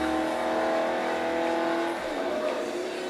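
AMC Javelin AMX muscle car engine in Forza Motorsport 3, a loud steady engine drone with sustained tonal whine that shifts pitch and eases after about two seconds, with no talking.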